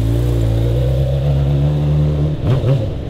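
A loud Honda CBR600RR motorcycle engine idling with a steady low drone, then a quick rev that rises and falls near the end, close by.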